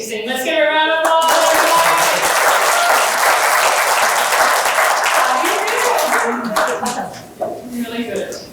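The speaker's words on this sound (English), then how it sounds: "Let's give her a round of applause." An audience claps and cheers for someone speaker at a career talk, loud sustained applause with a voice talking over it and a tonal sound in the opening seconds.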